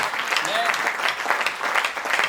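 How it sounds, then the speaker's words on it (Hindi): A large crowd at a Hindi poetry recital claps loudly and steadily, a full wash of applause with some quick rhythmic bursts, and a brief tonal squeak sounds near the start. "जरा जोरदार ताली बजा दीजिए"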